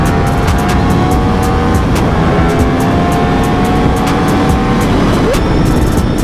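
Yamaha R1 motorcycle with a titanium exhaust pulls hard on a freeway, a loud steady engine roar climbing in pitch over heavy wind rush, close and continuous without talk.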